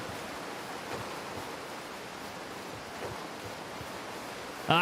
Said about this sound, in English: This water is very, very loud.